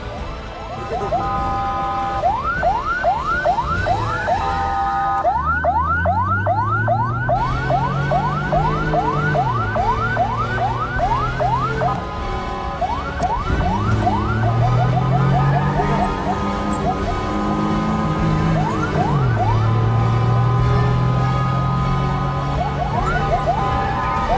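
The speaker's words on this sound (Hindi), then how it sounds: "अस्पताल पहुंचने की जिद्दोजहद में इस एम्बुलेंस ड्राइवर का कोई साथ नहीं दे रहा" An ambulance siren wails loudly and continuously in heavy traffic, its rising and falling yelp cycling through steady wails and rapid warbles over a constant roar of engines.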